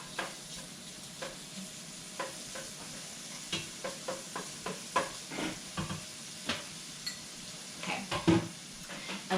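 Chopped bacon frying in butter in a soup pot, a soft steady sizzle broken by repeated clinks and scrapes of a utensil stirring, close and without talk.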